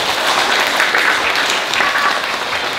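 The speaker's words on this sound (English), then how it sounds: "Give them another round of applause." An audience claps loudly and continuously at a public school presentation day, saluting the school captains, vice captains and prefects, a dense, unbroken wash of applause heard close throughout.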